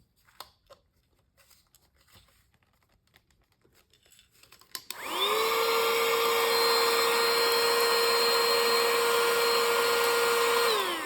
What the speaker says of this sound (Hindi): ब्रश के साथ हम उनको मूवमेंट देकर वैक्यूम क्लीनर के अंदर लेके आ सकते हैं